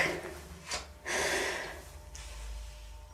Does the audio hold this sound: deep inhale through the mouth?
yes